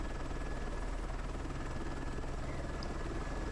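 An AS 350 B2 helicopter sling loading in snowy mountains gives off a constant, dense rotor and turbine roar that stays even and unbroken throughout.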